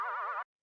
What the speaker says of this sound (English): And this is what makes it kind of like not really sound like a synth.